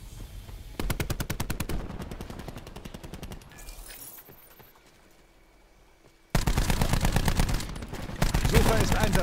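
Rapid automatic gunfire in Call of Duty Black Ops 4 bursts loudly, pauses into quieter in-game ambience, then resumes with sustained close rattling fire.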